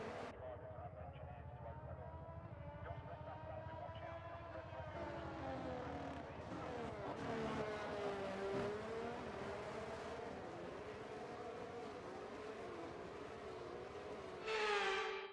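Formula 1 race cars in the F1 23 video game reforming the grid in Australia, a steady layered engine whine with shifting pitch, rising in intensity midway, ending with a brief louder burst; commentary voice runs underneath.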